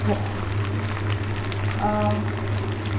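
Chopped shallots fry in a pan for Chettinad poondu kuzhambu, giving a steady, dense sizzle that runs loud and unbroken throughout, with faint voices or tones in the background.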